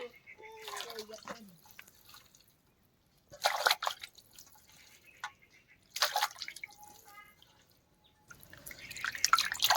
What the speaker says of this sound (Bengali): এবার আমরা মাংসগুলোকে ধুয়ে নেব।